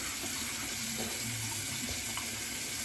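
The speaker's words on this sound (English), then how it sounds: "now I'll rinse off with some cool water" Cool water runs from a bathroom tap during a rinse after a shave, a steady, soft splashing hiss with faint irregular trickles and spatters, close by and with no talking.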